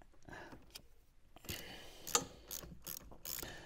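A ratchet socket wrench loosens a battery terminal on a Land Rover Discovery Sport L550, with several short bursts of close, quiet clicking and small metallic knocks.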